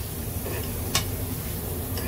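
Dry spicy mutton and masala being stirred together in a pan give a low continuous sizzle with one brief utensil tick partway through.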